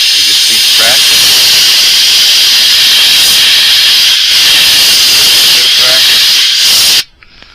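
A cheap $30 airbrush spraying paint with air pressure turned up, a loud continuous close hiss lasting about seven seconds before cutting off abruptly, with a voice speaking over it.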